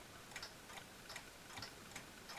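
Westminster-chime mantel clock ticking at an even, steady pace, each tick soft and close in a quiet room, with no voices over it.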